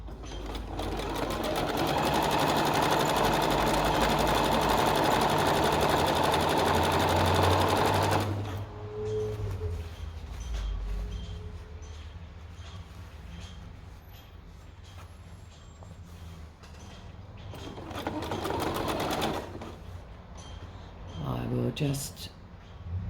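A sewing machine runs steadily for about eight seconds, stitching stretched elastic onto a pair of shorts, then stops; quieter handling and fabric shuffling follow, with a brief burst of stitching near the end.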